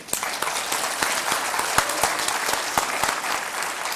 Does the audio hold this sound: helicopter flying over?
no